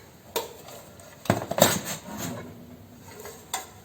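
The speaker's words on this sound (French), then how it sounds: "On sort le pain de la cuve." Metal bread pan clatters as the loaf is knocked out of a Moulinex Pain Plaisir bread machine pan, several sharp knocks and scrapes close by, with one cluster of clanks in the middle and a last tap near the end.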